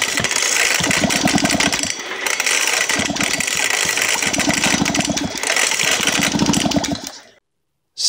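A barn-find Motobécane Cady moped engine catches and runs with a loud buzzy two-stroke rattle and a fast ratcheting chatter, close by, revving unevenly before cutting to silence at the end.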